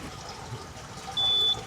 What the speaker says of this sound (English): Just got to wait for the satellite to go across before it beeps.